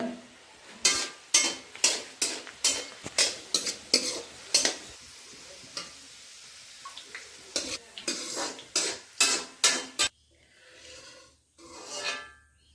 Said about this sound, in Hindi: ये प्याज फ्राई कर रही है लगाने के लिए